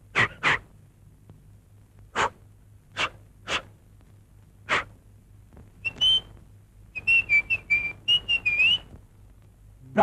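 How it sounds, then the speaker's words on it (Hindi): A woman whistles in a Hindi film scene: several short sharp breathy bursts first, then a run of clear tuneful whistled notes, close and alone without talk. "क्या खूबसूरत सीटी बजा रही हैं आप।"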